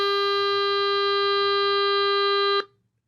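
A synthesized 400 Hz tone built from a histogram waveform sounds as a steady, buzzy, harmonic-rich hum, loud and unwavering for about two and a half seconds before cutting off sharply into silence.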